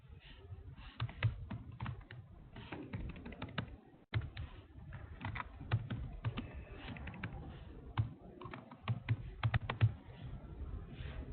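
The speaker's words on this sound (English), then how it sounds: "whatever I type in over here, so as soon as I press enter" Steady typing on a computer keyboard, with bursts of quick key clicks and brief pauses, heard fairly close in a quiet room.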